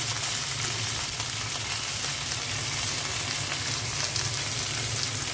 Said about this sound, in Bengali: দিয়ে দিচ্ছি কালো জিরা আর আদা রসুনের পেস্ট লবণ